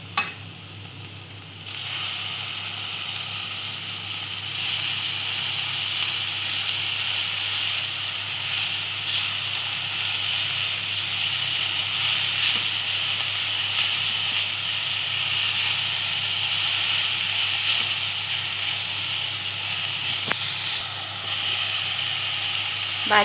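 Red amaranth leafy greens going into a pan of softened onion set off a loud, steady sizzle and hiss that holds unbroken for over twenty seconds, close and continuous, with no voices over it.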